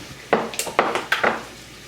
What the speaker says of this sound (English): Just put it into a little glass jar. Stick a lid on it.